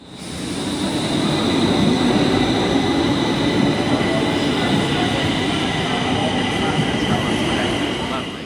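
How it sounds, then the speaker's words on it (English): A Stockholm metro train rumbles loudly and steadily through the underground, with a constant roar of wheels on rails and a faint high squeal riding on top for several seconds. "we're gonna get back on the train"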